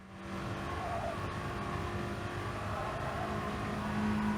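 A VW Scirocco Gr.4 race car in Gran Turismo Sport revs hard at Autodrome Lago Maggiore West, its engine a steady, loud in-car drone that holds near full revs and rises slightly toward the end.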